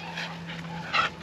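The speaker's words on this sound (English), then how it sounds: "That was a neighbor dog." An elderly female neighbor dog gives three short, sharp barks a little apart, and the last one is the loudest.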